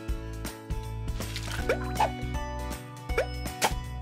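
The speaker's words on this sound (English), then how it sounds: "Let's get this water out." Cartoonish plops and watery gurgles from a kids' cleaning video game as water is cleared off the floor, several quick liquid blips over a steady synthetic musical backdrop.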